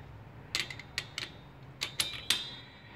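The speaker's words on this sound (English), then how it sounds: "now I'm gonna put that on my torque wrench" Quiet, light ratcheting clicks in short bursts come from a torque wrench turning a 13 socket on an extension to tighten a coilover bolt.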